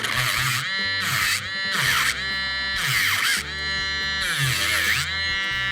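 Madam Glam mini nail polishing pen grinding off poly gel and gel polish: a thin, buzzing whir that rises in bright bursts each time the bit presses onto the nail, close and continuous.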